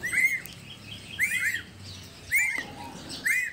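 Timor friarbird calling, repeated short bright chirping phrases with rising and falling notes, four bursts spaced about a second apart, close and clear against a quiet background.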